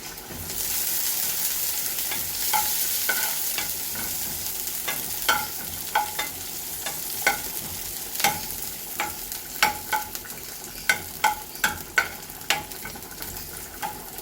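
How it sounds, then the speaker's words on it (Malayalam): Chopped onions sizzle and fry in hot oil for a chickpea curry, a steady close hiss broken by frequent sharp crackles and pops that grow denser toward the end, with occasional stirring scrapes and no talking. "സവാള മൊരിയട്ടെ"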